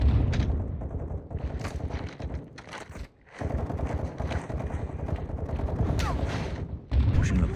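Call of Duty: Modern Warfare 2 (2022) campaign combat with near-continuous automatic gunfire and bursts of shots, loud and dense, briefly dropping out for a moment before resuming, with muffled voices mixed in.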